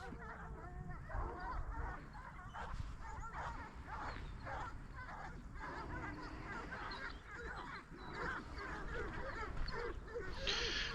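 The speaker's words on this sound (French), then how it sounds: "Ouh, les chiens!" Pack of hunting dogs barking and yelping during a driven wild boar hunt, a continuous overlapping chorus of excited barks at a distance, faint against outdoor noise.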